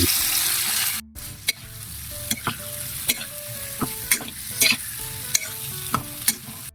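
Shrimp and garlic sauté in a hot pan, with a steady loud sizzle throughout and repeated sharp clicks and scrapes of a utensil stirring the pan.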